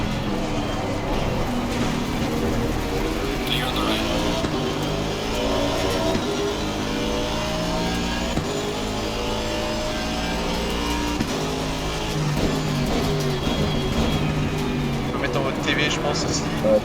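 Race cars launching at the start of an online Assetto Corsa Competizione race, a dense pack of engines revving and droning together at steady high volume throughout, with a commentator talking over the engine noise.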